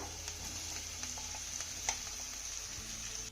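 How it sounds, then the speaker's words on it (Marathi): A spice paste frying in oil with mustard seeds and cumin gives a steady, fairly quiet sizzle, with faint scrapes and clicks from stirring throughout and no one talking. "आता हे वाटण ना आपल्याला 1 ते 2 मिनिटं चांगलं परतून घ्यायचं आहे."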